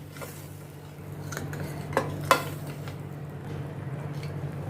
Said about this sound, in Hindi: टमाटर को भी मैं अनियन के साथ मिक्स करती हूँ अच्छी तरह से।